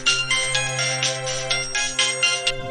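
A phone ringtone plays in a Hindi family story, a loud, bright electronic melody looping in quick repeated phrases for the whole stretch, with no talk.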